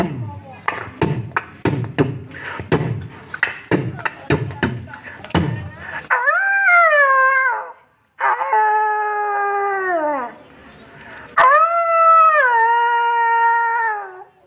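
Wolf howls imitated by a human voice during a children's puppet story, three long rising-and-falling howls following a stretch of rhythmic knocking and chatter, loud and close.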